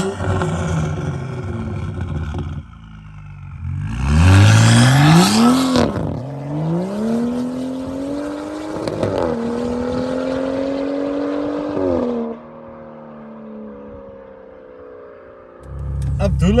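A 2022 BMW M135i hot hatch exhaust revs sharply from idle, climbing in a loud rising sweep, then settles into a steady drone that falls away, close to the tailpipe with some voices in the background.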